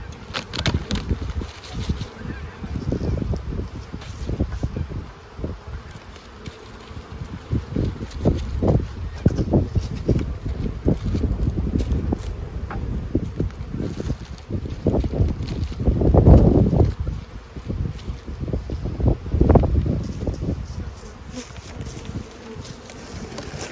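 Gusty wind blows outdoors at beehives on a warm day, rumbling in uneven low buffets against the microphone while a steady insect buzz continues underneath.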